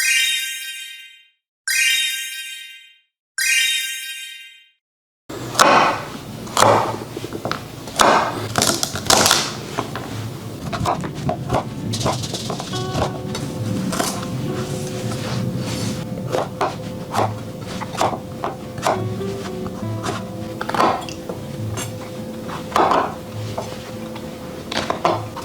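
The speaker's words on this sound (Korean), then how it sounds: "이제 재료 잘라 볼게요." Vegetables for stock are cut on a cutting board: three sharp knife chops ring out alone at first, followed by a long run of busy clattering, scraping and knocking of the knife and board.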